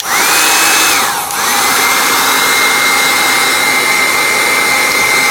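Heat gun whining steadily at close range while shrinking heat shrink tubing on blower terminals; the tone dips briefly about a second in, then resumes and holds at a loud, continuous pitch.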